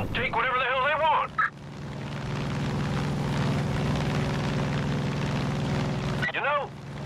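A propeller plane in Far Cry 5 drones steadily overhead, its engine roar holding level for several seconds, with a brief voice just before it and another as it ends.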